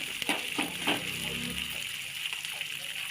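Onions and curry leaves sautéing in oil for mint chutney, a close soft sizzle with a few stirring scrapes and a brief murmur of voice.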